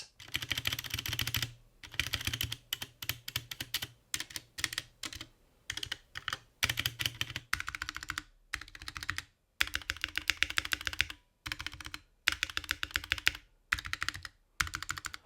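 Rapid clacking of keys on a computer keyboard in bursts of typing separated by brief pauses, close and clear with no voices.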